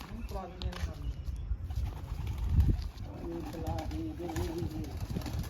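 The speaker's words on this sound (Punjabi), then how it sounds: "ਕਬੂਤਰੀ ਬੈਠੀ ਆ ਉਧਰ ਖੁੰਝੇ ਤੇ" A pigeon coos nearby in soft, low rounded calls, with people talking quietly over a background murmur.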